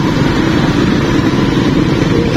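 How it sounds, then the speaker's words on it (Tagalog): Three motorcycles following a person on foot, their engines droning steadily and continuously close by, loud, with no clear breaks or gear changes. "Tatlo na yung motor yung sumusunod sa kanya"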